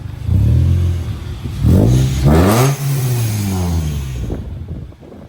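A 300,000-mile Toyota Tacoma engine is revved hard twice, climbing to a loud, close roar and then falling back to idle before it goes quiet.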